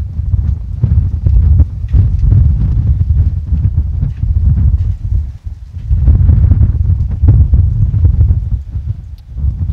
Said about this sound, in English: The wind has picked up yet another notch.